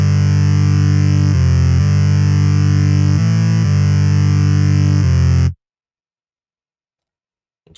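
A thick distorted synth tone from FL Studio's Hardcore effect plugin, loud and buzzing with a heavy low end, holds and shifts pitch a few times before cutting off abruptly into silence.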